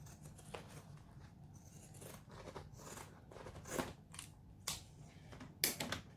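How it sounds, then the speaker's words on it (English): Blunt pinking shears trimming fabric around curves, a series of quiet crunchy cuts and snips in an uneven rhythm, close but soft, with no talking. "grab either your zigzag scissors, aka pinking shears, which mine are very blunt, or even just some scissors to trim off the excess around the curves"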